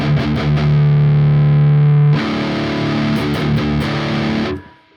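A fully pine electric guitar plays heavily distorted riffs, opening on a sustained low chord, then switching to choppy palm-muted chugs with short accents before the final chord cuts off and fades. No one speaks.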